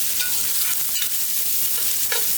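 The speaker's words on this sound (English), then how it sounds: "You can really hear the sizzle happening there now." Garlic, onion and cumin seeds sizzle loudly in a pot of oil while cooking curry duck, a dense, continuous close crackle with faint stirring scrapes, no voices.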